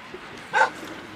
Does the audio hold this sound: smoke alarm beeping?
no